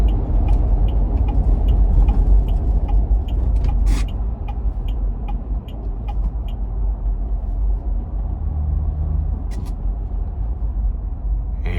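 A 2024 Ineos Grenadier accelerates up an interstate on-ramp, heard from inside the cabin as a steady, loud low engine and road rumble with faint ticking clicks over the top.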